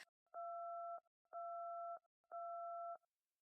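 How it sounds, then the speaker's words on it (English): A phone call-waiting tone on a call sounds three times in a steady pattern, each beep about two-thirds of a second long with short gaps between, clean and alone with no voices. "Someone else is trying to get through."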